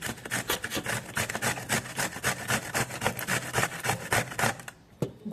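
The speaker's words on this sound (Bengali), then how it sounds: "পটলকে এরকমভাবে গ্রেটারে ঘষে নেব।" A pointed gourd is grated on a metal grater in repeated quick strokes, producing close, loud rhythmic rasping scrapes that stop briefly near the end before one more pass.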